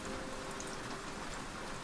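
Steady rain falls on surfaces, an even, dense patter of raindrops that holds at a constant moderate level throughout the short stretch with no voices.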